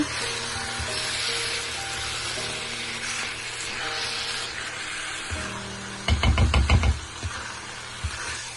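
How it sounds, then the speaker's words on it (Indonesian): Banana blossom and jackfruit stir-frying in tom yum sauce in a pan, a steady sizzle and hiss running throughout, broken by a brief burst of spatula knocks and scraping near the end. "Nah, kita tumis sampai kering ya."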